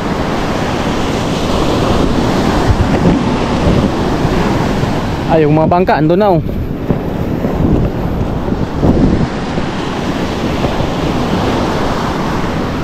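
Strong sea waves surge and crash near the shore in a steady loud roar, whipped by wind noise, with people talking excitedly over the surf.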